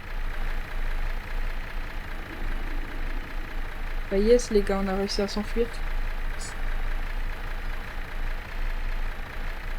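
A vehicle engine in the horror video game From the Fog hums at a low steady idle throughout, with a brief burst of mechanical noise partway through and someone speaking over it.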